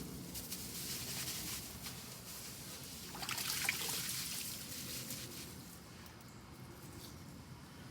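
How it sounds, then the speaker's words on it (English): A hose sprays water over the roots of hydroponic Dutch bucket plants, giving a faint, steady rush and trickle that continues without a break. "And you just hose it down."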